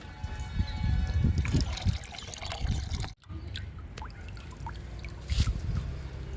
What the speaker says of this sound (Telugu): మొక్కంతా చల్లాలండి మొక్కంతా తడవాలి లిక్విడ్తో